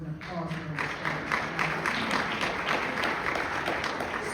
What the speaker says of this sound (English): Now that is an applause